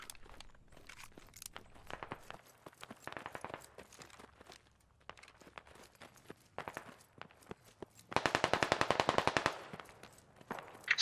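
Machine gun fire in a squad-based military video game set in a Russian city, heard as several bursts of rapid, fairly distant rattling shots, with one louder, sustained burst near the end.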